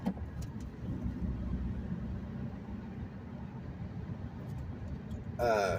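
A manual-transmission car cruises in fourth gear at about 35 mph, its engine and road noise a steady low drone with no shifts, broken by a short clatter at the very end.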